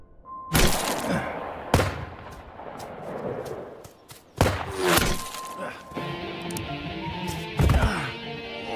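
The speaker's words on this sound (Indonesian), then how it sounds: "akhirnya mereka pun terlibat baku tembak" Gunfight sound effects from the horror film Cry Havoc: scattered loud, sharp gunshots and impacts with crashing debris, spaced irregularly over a tense ambient bed.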